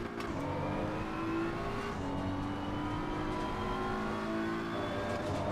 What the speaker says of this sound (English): very quick Mustang coming up behind you